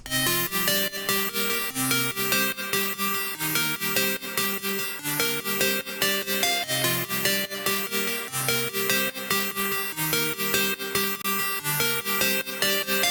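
A bright synth plays a repeating plucked melody in quick, even notes, looping steadily and filling the whole stretch at a constant level.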